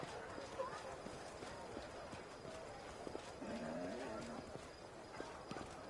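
Game-world horse hooves clip-clop on a city street outside a fortress in Pathfinder: Wrath of the Righteous, a steady rhythm of soft, distant hoof strikes under ambient town noise, faint overall, with a brief horse snort in the middle.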